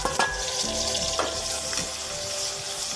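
Chili sizzling and frying in a little oil in a pan, a steady dense hiss with a few faint clinks from stirring, close and continuous with no talk.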